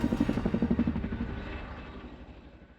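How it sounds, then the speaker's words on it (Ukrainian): A Boeing CH-47 Chinook twin-rotor military helicopter passes with heavy rhythmic rotor thumping, loud at first and then fading into a fading engine drone. "CH-47 «Чінук» немає собі рівних як найпотужніший гелікоптер у світі."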